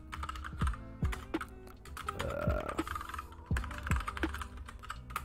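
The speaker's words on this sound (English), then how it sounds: "I'm not looking at my keyboard all the time when I'm typing" Fingers tap quickly on a computer keyboard, a close run of uneven clicks and thumps with short pauses, including a brief rattling burst midway.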